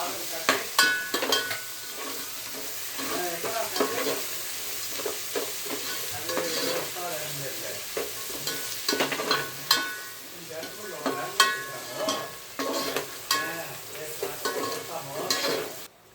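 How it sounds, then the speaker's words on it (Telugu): Rice pulao masala with coriander fries and sizzles in a pan while being stirred, with a steady hiss and repeated scraping stir strokes for a long stretch, and no talk over it. "And then let it fry well."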